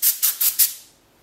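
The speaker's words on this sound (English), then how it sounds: "Compressed air to clean off the dust." Four quick bursts of compressed air spray blowing dust off a calculator during assembly, close and sharp, each puff hissing briefly before a quiet tail.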